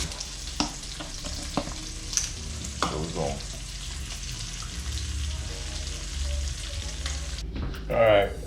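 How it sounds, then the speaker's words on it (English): Onions and rib meat cooking in a pot for soul food, a soft sizzle with scattered clinks and stirring sounds, plus a short louder burst near the end. "Now we got the rib meat in there. Okay, we let the onions get a little clear."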